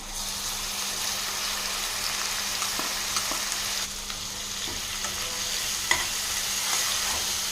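Ground shallot paste with ginger-garlic paste fries in a pan, a continuous close sizzle broken by the scrape and clink of stirring, with no talking.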